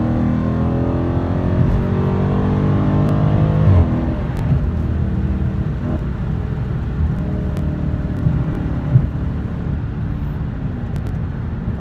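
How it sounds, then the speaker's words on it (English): Cabin view of a Dodge Charger Daytona 392 with a Dynomax exhaust, its loud V8 drone rising through the revs and then dropping as it upshifts through an 8-speed automatic, continuing to pull steadily afterward. "So you can control your upshifts by the accelerator."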